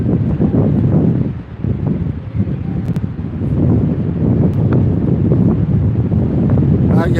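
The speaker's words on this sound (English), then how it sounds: "Blows the cobwebs off, this wind." Wind gusting across the Blackpool seafront, a steady broadband roar with buffeting swells that dips briefly near the middle, loud and close on the microphone throughout.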